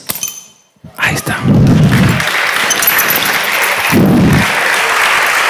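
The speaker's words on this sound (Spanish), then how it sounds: "Un aplauso para Arsen." Audience applause at a live stage show in Valladolid, a dense crowd clapping that swells after a moment of quiet, holds steady, and carries two low bursts of cheering or thuds, with a presenter's voice over it.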